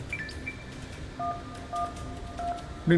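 Emergency number 112 being dialed on a smartphone after a fatal log-crush accident: a few soft keypad tones beep in sequence over quiet background hiss, ending with a louder tone.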